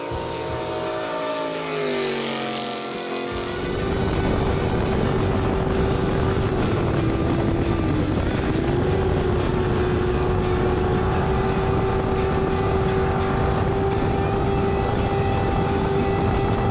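A racing boat engine roars steadily and loudly on a river, its pitch rising early then holding a sustained high drone throughout.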